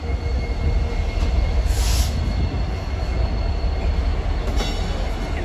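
A freight train rolls steadily along the tracks with a loud, continuous rumble and faint wheel squeal near by, and no talk is heard.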